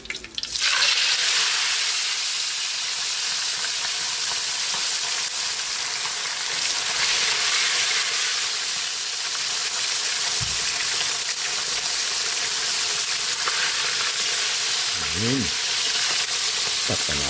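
A second batch of fish sizzles steadily in hot oil in a frying pan, a dense, loud crackling hiss that stays constant throughout, with a brief clink of a utensil near the end.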